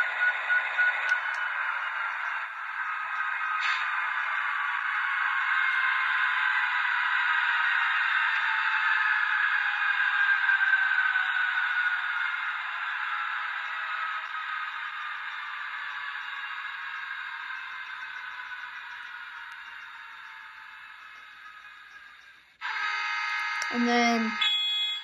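Model train sound decoder playing an EMD SD70ACe locomotive shutdown sequence, Walthers Mainline Penn Central heritage unit: a steady diesel drone that slowly winds down over about twenty seconds, then a brief clanking restart at the end.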